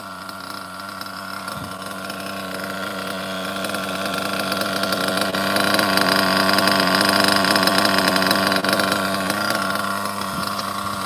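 An OFNA Ultra MBX RC buggy with a 2-speed and a Hyper 21 nitro engine runs at a steady, loud, buzzing rev, climbing slightly partway through and holding high, close by.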